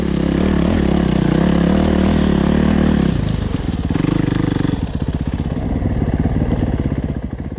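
A Suzuki RMX450Z 450 dirt bike engine roars loud and close while being ridden, a steady heavy drone that shifts to a rapid chugging putter partway through as the revs drop.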